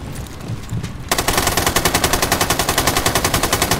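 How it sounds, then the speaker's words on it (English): Automatic gunfire from Rainbow Six Siege erupts after a moment of quieter ambience, a loud, rapid, evenly spaced burst of shots hammering continuously for several seconds. "Is that the fireworks of people firing a gun?"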